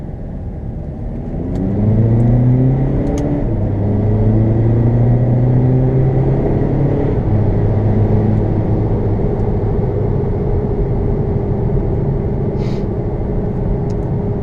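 A tuned car accelerating hard in second gear from a roll at about 30 km/h, its engine rising steadily in pitch and holding a loud, close, rumbling drone with no talking.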